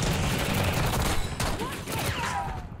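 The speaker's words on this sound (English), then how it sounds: "It's so easy to play them with the fire shotgun, bro." A fire shotgun in Black Ops 6 fires Dragon's Breath rounds in dense, rapid gunfire, booming blasts layered over one another amid constant loud battle noise.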